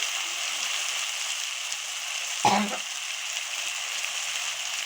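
Chili and turmeric powder hit hot oil in a pan while matar paneer is cooked, giving one brief, sharp sizzling burst in the middle over a steady, soft background hiss of frying.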